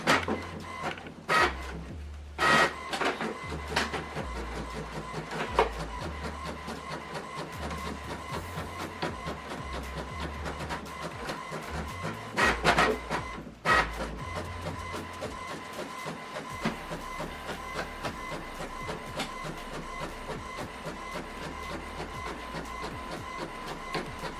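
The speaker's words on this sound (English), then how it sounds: "Now this document is printing." An inkjet-style printer runs off a single-sided colour document, its carriage whirring and clunking through bursts of mechanical feed noise with a steady motor hum, close by and with no voices.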